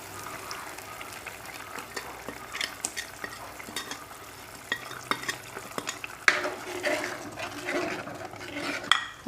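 A spice paste is stirred into a sizzling tomato mixture in a pan for fish curry, with repeated close scraping and wet stirring strokes over a bubbling fry, growing louder toward the end.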